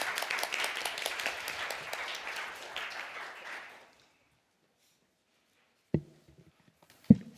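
Clapping from a seated audience at a Korean guardianship conference greets a lawyer taking the floor, a moderate burst that fades out after about four seconds, followed by silence and a couple of sharp thumps.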